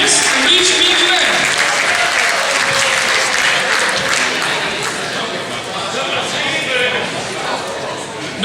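Sustained, dense applause from a large audience at a Limburg carnival song contest prize announcement, loud and steady for the whole stretch, easing slightly toward the end, with faint voices underneath.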